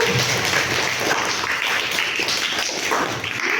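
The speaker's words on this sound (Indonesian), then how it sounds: "Oke, bagus sekali tepuk tangan." Students in a classroom clap together, a fast, busy patter of many hands that holds steady at close range for the whole stretch.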